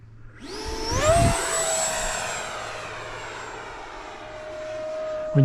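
An FMS BAe Hawk RC model jet passes close by, its high ducted-fan whine rising sharply in pitch as it approaches, then holding a loud, steady tone as it flies past, ending in a brief low thump.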